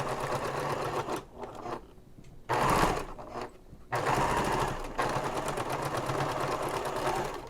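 A sewing machine stitches a messenger bag in fast whirring runs, pausing briefly twice before resuming at a steady pace, close and moderately quiet.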